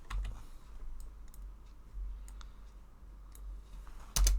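Computer keyboard keys clicked at a desk, a few scattered light taps over a low room hum, ending in a louder burst of quick presses.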